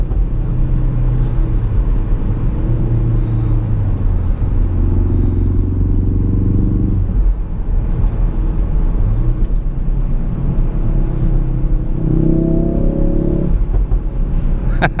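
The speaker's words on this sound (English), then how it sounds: "Gonna downshift to 3rd. And it starts crackling and popping." A 2017 Ford Focus RS engine droning loudly and steadily close up, its pitch stepping up and down through shifts, though distinct exhaust crackles and pops on the downshift to third are not clearly picked out.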